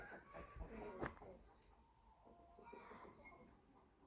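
Australorp hens cluck softly in a sunny yard, scattered low calls and a few sharper clucks coming in irregular bursts, faint and close, with light background noise.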